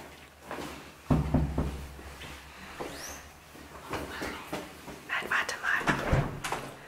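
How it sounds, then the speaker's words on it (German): Children open a door at their father's workplace during a family visit to a doctor's practice, giving a few knocks and thumps with a brief creak amid whispering and soft young voices nearby. "Jetzt könnt ihr einmal die Tür aufmachen."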